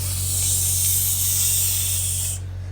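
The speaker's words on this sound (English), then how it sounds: "Except it's not hairspray, it's air refreshener." An aerosol can of air freshener sprays in one continuous, close, loud hiss lasting over two seconds before cutting off abruptly, over a low steady hum.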